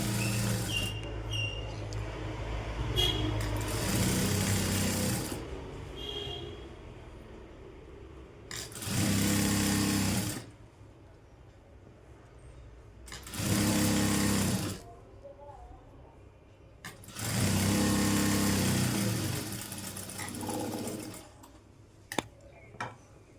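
A sewing machine stitches a Punjabi dress top in several loud bursts of rapid whirring separated by quieter stretches, with a voice talking between and around the runs.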